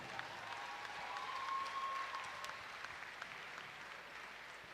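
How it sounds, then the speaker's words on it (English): Fight-night crowd at a Muay Thai cage event applauding two fighters, a steady wash of clapping that stays fairly faint and distant, swelling slightly midway before easing off. "how about a round of applause for two great fighters?"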